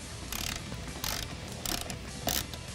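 A hand ratchet loosening the two Torx screws on the lower cowl of a 2013-2014 Ford Focus ST, heard as four short bursts of rapid clicking separated by brief pauses, close up, with no talking.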